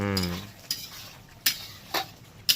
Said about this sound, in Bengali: এবার এটাকে দিয়ে হালকা নেড়ে চেড়ে ফুলকপিটা দিয়ে দেবো